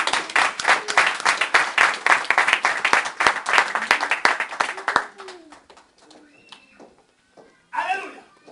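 A church congregation at an evangelical worship service breaks into sustained, loud hand clapping for about five seconds. The applause then dies away into quiet room noise, and a short spoken exclamation follows near the end.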